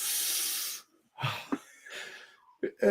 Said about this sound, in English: They're breathing.